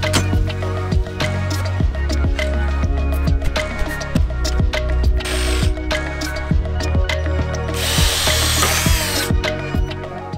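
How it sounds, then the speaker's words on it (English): While a backyard mountain-bike trail bridge is built, a power drill drives into wood in repeated bursts with sharp clicks and knocks, plus two louder hissing grinds, close and busy. "Just snap the drill off in there."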